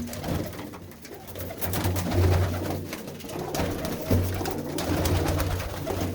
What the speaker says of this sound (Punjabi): ਬਹੁਤ ਹੀ ਸੋਹਣੇ ਸੋਹਣੇ ਕਬੂਤਰ ਨੇ